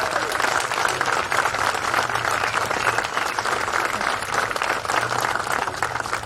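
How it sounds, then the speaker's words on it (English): Sustained audience applause fills a hall during a college athletic hall of fame induction ceremony, dense steady clapping from a large crowd with no break throughout. "So how about a nice round of applause for Coach Don Snedden."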